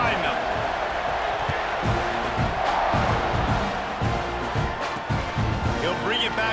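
Big stadium crowd roaring steadily as a college football kickoff gets under way, a loud continuous wash of cheering with an announcer's voice running over it.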